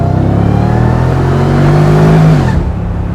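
Mercedes SLR sports car engine revving, a loud, close, deep roar that climbs in pitch and then drops off sharply near the end, with no talking.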